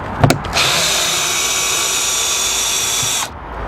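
A cordless power drill with its clutch set low runs in one steady burst for about three seconds while driving screws, close and loud, after a brief clatter at the start, with no voices.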